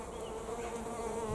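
Bees buzzing around flowering purple sprouting broccoli in a kitchen garden, a steady close hum with no voices over it.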